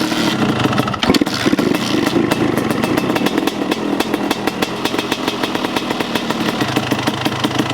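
A small two-stroke Kawasaki KX250 dirt bike engine idling steadily up close after a rebuild, with a rapid, uneven popping rattle and a brief rev near the start.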